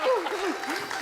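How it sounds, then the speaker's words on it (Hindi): Studio audience on a Kapil Sharma Show comedy set applauds a welcomed guest, a dense steady patter of clapping, with a voice speaking over it. "जोरदार तालियां नीतू जी के लिए"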